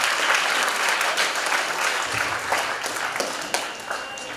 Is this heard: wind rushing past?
no